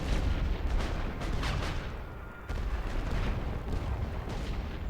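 Artillery fire from a World War I strategy game on the Western Front, a dense continuous rumble of distant booms with a brief lull midway.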